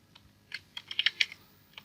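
A short burst of typing on a computer keyboard, several quick close key clicks clustered in the middle, with a few isolated taps before and after, no voices.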